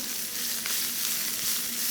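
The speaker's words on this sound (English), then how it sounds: "We're going to start off with the leeks. And we're just going to lightly saute," Sliced leeks sauté lightly in oil in a non-stick pan, giving a soft, even frying hiss that holds steady and close throughout.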